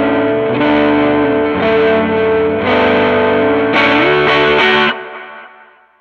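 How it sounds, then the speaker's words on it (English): Distorted electric guitar open chords ring out through a Chase Bliss MOOD pedal, with a wash of delay repeats blurring beneath them, ending as the sound decays away. "You can hear a little bit of kind of a set of delay repeats, but they really wash under"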